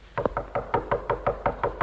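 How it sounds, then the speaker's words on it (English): A firm, steady series of about nine knocks on a door, evenly spaced and close, with no voices. "Are you trying to knock the door down?"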